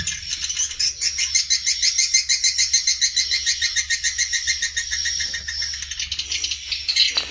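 Swiftlet call and lure sounds played through an amplifier speaker: dense, continuous rapid chirping and twittering that repeats in fast pulses, loud and steady throughout.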